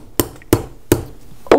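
A hammer strikes a brass rivet four times in an even rhythm, each a sharp, close metallic tap ringing briefly, with the last blow slightly brighter, and no voices.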